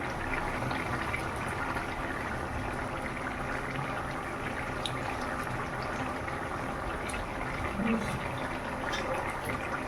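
Water goes into a pan of poppy seed gravy, bringing a steady soft bubbling, hissing simmer that carries evenly throughout at a quiet level, with no voices.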